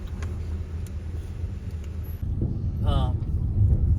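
Afternoon car traffic rumbles steadily near a bridge in Guyana, a continuous low engine drone that swells slightly louder toward the end, with voices talking over it.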